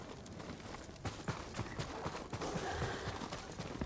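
Faint, quick clopping of horse hooves sounds irregularly over a noisy background in Ghost of Tsushima, soft and somewhat distant.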